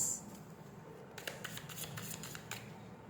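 Tarot cards drawn and handled from a deck, soft papery slides and light flicks close by, a few crisp snaps scattered over a quiet hiss.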